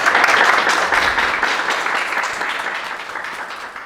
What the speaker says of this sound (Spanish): Vamos a brindarle un aplauso a él.